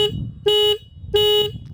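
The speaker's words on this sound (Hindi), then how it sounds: "इस बाइक का कुछ हॉर्न है।" Two short, loud honks from a Bajaj Pulsar N160 motorcycle horn, each a bright buzzy electric tone lasting about a quarter second, with a brief gap between them.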